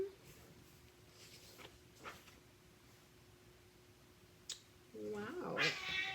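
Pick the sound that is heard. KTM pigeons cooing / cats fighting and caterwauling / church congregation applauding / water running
cats fighting and caterwauling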